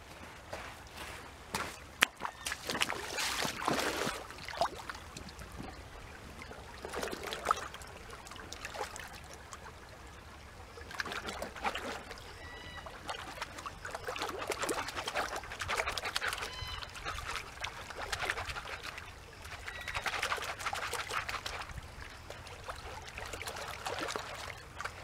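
Gravel is swirled and washed in a gold pan with creek water, giving intermittent sloshing and pouring bursts with gritty rattles, close up, amid faint outdoor background and occasional bird clucks.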